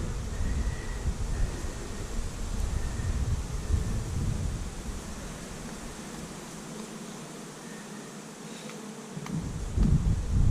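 Honey bees buzz continuously during a winter bee rescue, a close, dense hum of many wings that swells and fades slightly, with a deeper rumble toward the end.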